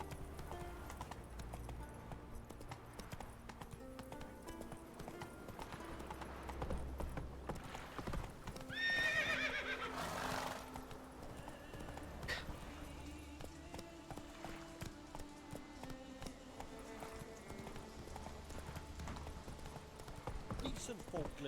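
Roach, a horse in The Witcher 3 video game, gallops with steady clip-clop hoofbeats throughout, a brief whinny or louder burst near the middle, game ambience and a voice talking over the ride.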